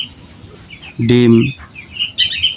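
King quail birds on a small home farm chirp and call, with one loud clucking burst up close followed by softer high chirps, and a brief spoken word.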